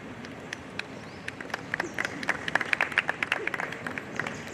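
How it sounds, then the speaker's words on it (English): An audience at a school Republic Day celebration applauds performers, starting with scattered individual claps that thicken into a lively ripple of clapping, moderately distant in a large space. "Let us applaud our performers for their heartfelt presentation."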